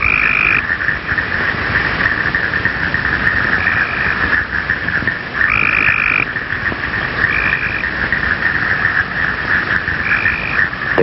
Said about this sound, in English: The tree toad's call is a very short trill.